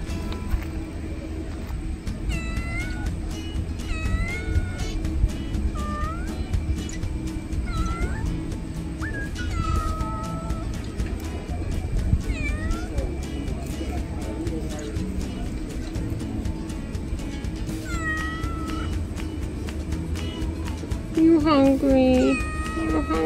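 Repeated hungry cat meows in Banyuwangi, East Java, rising and falling, come every few seconds over a steady background hum, with a louder burst of meowing near the end.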